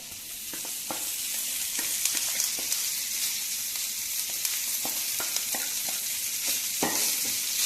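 A rosti mixture of grated potato with freshly chopped herbs fries in a pan with a continuous loud sizzle and scattered sharp clicks and scrapes of a utensil against the pan.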